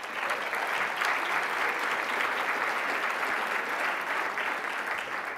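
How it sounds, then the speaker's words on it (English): A large room of attendees at the AORE 2014 conference keynote breaks into dense, sustained applause, a steady roar of clapping that holds evenly throughout. "round of applause for them"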